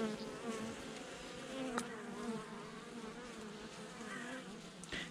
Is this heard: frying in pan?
no